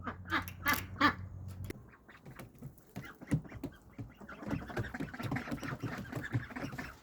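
About eleven ducks quack repeatedly in a loud cluster at the start as they are carried, then softer scattered quacking and flock chatter continue close by with rustling movement.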